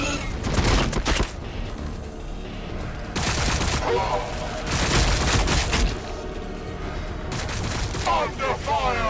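Dense, sustained gunfire and explosions in the Warhammer 40,000 Battlesector video game, with loud rattling volleys and booms running almost without pause, and battle voices mixed into the din.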